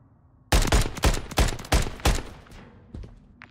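Rapid bursts of MCW rifle fire in Call of Duty Search and Destroy, about six sharp close shots in quick succession with a fainter shot trailing after, no talk.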